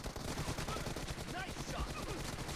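Rapid gunfire in the PUBG Mobile video game, quick bursts of shots at low level, with a voice talking over it.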